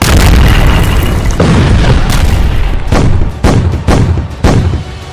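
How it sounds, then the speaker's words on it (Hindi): Heavy bomb blasts from an Israeli airstrike on Gaza at night: loud, deep booming detonations rolling over each other, followed by several sharp repeated bursts in quick succession, with no voices. "हमास के ठिकाने पर बम बरस पड़ते हैं"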